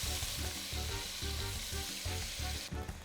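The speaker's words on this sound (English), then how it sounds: "Our ham has been frying up for about 5 or 6 minutes." Ham sizzles steadily in a pan with homemade sofrito for Puerto Rican arroz con gandules, a loud close frying hiss with rhythmic stirring scrapes throughout.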